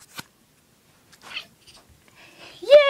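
A person's voice imitates a cat's meow, a short rising and falling tonal cry at the very end after a few faint, scattered noises and near silence.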